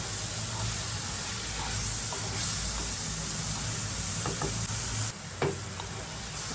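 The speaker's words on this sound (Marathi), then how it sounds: "चांगला परतून घेऊया" Dried kardi (small dried shrimp) sautés in a pan with a steady, close frying hiss and sizzle. A few soft stirring scrapes and one sharp clack come near the end.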